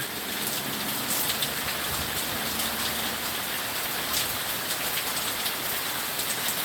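Heavy rain pours during a pop-up storm in Virginia, a dense, steady hiss of drops pattering on surfaces close by, continuous and unbroken with no voices.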